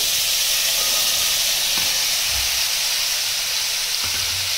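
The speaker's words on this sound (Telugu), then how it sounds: "మనం డ్రైన్ చేసి పెట్టుకున్న శనగల్ని దీంట్లో వేసేస్తున్నాను" Drained chickpeas go into a hot tempering for kommu senagalu thalimpu, giving a loud, steady sizzling hiss that fills the whole stretch with a few faint low knocks from the pan, and no voices.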